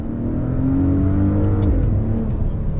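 A 2022 Maserati Ghibli Modena in sport mode accelerates on throttle, its engine a steady, close, loud drone that rises and shifts pitch partway through, with no talk.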